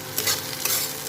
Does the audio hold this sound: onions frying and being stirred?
yes